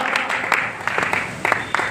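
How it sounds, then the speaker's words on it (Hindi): Applause from the audience at a business meeting in India, a dense patter of many hands clapping continuously, fairly close and loud, with no voices over it. "एक बार अपने लिए जोरदार ताली बजाओ।"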